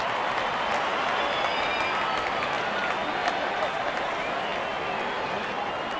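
Steady, loud applause from a cricket crowd saluting a batsman's fifty in a South Africa versus Australia match, continuous dense clapping throughout with no break.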